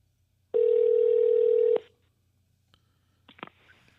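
A single steady electronic ring tone sounds for about a second over a phone line, then stops, followed by faint clicks and rustling.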